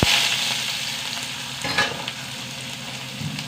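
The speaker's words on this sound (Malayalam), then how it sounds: "ഉള്ളിയിട്ട് കൊടുക്കട്ടെ സവാള ചെറുതായി" Finely chopped onions sizzle in hot oil in a pan as they are stirred, giving a close, steady frying hiss with a brief scraping swell midway and no talking.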